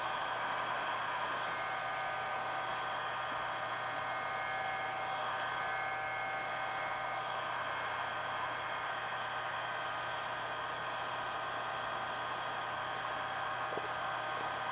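A heat gun blows hot air around the top of a planter hose to soften it, a steady quiet whooshing hiss with a faint motor whine, continuous and unchanging throughout.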